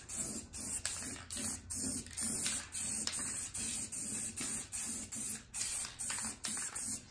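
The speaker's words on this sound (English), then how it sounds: "So you spray at this angle to get under there." A can of black spray paint hisses in steady repeated bursts, roughly a dozen short even sprays in a regular rhythm, as a car rim gets its first light coat, with no talking.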